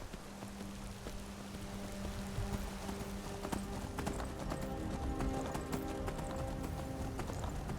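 Horse hooves clip-clop steadily in Skyrim, a moderately close run of rhythmic footfalls over a soft rainy ambience with a low droning tone, and no talking.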